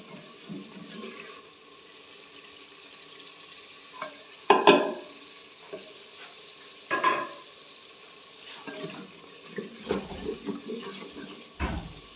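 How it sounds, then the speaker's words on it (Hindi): Spices roast in a pan for palak aloo, with a soft low sizzle broken by several louder spoon scrapes and clatters, close but fairly quiet, with no talking. "अच्छे से मसालों की भुनाई करेंगे।"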